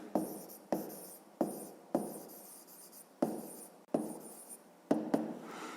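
Pen strokes on notebook paper as a year is written down, a series of short scratchy bursts repeating in an irregular rhythm, close and fairly quiet with no talking.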